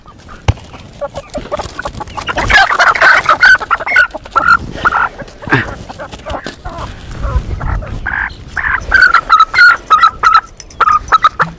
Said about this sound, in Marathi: आता ही कोंबडी बघा